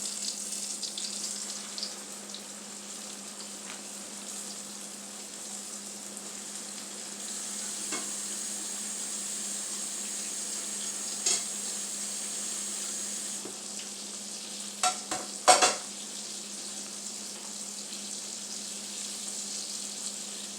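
Pork chops fry in hot grease with a loud, steady sizzle that hisses up briefly partway through, followed by a few close clinks of utensils near the end.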